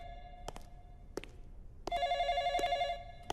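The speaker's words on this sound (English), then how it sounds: "Yes, when the phone rings, one answers it." A telephone bell rings in a short burst, then a longer steady ring, loud and close with no talk over it, from an animated dubbed show.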